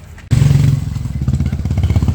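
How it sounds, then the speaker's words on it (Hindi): A motorbike suddenly cuts across close in front on a hilly street in Shillong, its engine bursting in loud and near, then rattling and sputtering as it moves on. "बड़े एक बाइक आके सामने से ऐसे काट के निकल गई"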